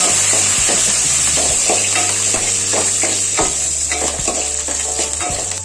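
Coconut pieces, green chilies and curry leaves fry with a steady loud sizzle in a pan for beef peralan, while a spoon scrapes and stirs in repeated strokes throughout.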